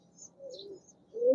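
A domestic pigeon gives a brief, soft coo, a low murmuring call that grows louder at the end against a quiet background, with a couple of faint high chirps.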